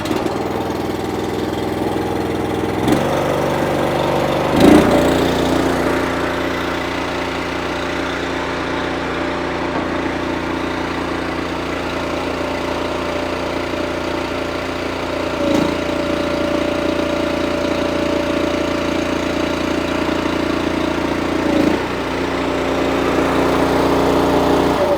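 A Honda GX390 small engine runs at about half throttle close up, a loud, even chugging drone with a few brief bumps in pitch along the way and no speech.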